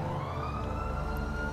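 A police car siren in Grand Theft Auto 5 gives a brief rising wail, loud and close, over a steady engine drone for under two seconds.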